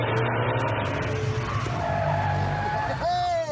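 An old race car skids around a track lap after lap, a loud, sustained engine roar with tire squeal rising into a sharp whine near the end.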